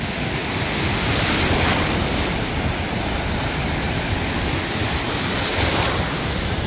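Ocean waves wash steadily onto a beach in a loud, continuous roar of surf, with some wind buffeting the microphone and no voices.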